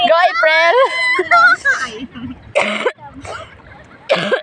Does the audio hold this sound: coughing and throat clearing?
yes